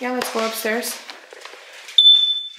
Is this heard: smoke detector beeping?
yes